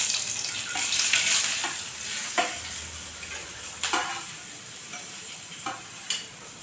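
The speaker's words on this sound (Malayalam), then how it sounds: "ഇനി നമുക്ക് സവോള, നമ്മൾ അരിഞ്ഞു വെച്ച സവോള ഇട്ട് കൊടുക്കാം" Sliced onions sizzle and fry steadily in a hot pan just after mustard seeds have popped, with a few soft stirring clicks and scrapes breaking through the continuous hiss.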